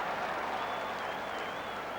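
A stadium crowd at the 1986 All-Ireland Gaelic football final, Kerry against Tyrone, applauds and cheers a point with a steady, distant roar of clapping and a faint whistle-like tone.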